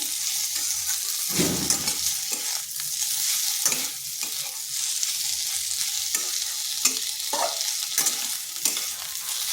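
Eggplant fries in oil in a pan for neem begun while being stirred, producing a continuous sizzle broken by repeated scraping strokes of a spoon against the pan.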